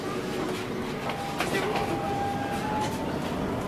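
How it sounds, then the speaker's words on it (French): Inside a moving TVR tram carriage, a steady rumble of rolling wheels on rail with a brief rising whine and a few light knocks and clatters, fairly loud and continuous. "Et me voilà dans cette rame."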